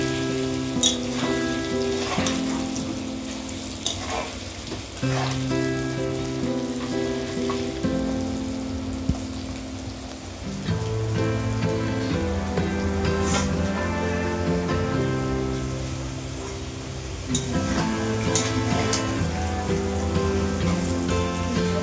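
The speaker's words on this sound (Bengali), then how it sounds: "দিয়ে আলুগুলোকে ভালো করে ভেজে নিচ্ছি" Potato pieces fry in oil with turmeric, salt and chilli powder for chicken biryani, giving a steady, continuous sizzle under background music.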